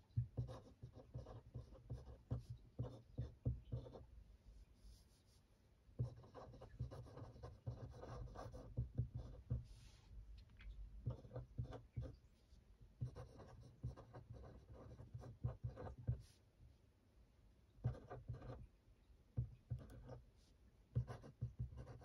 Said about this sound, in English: I'll just write that down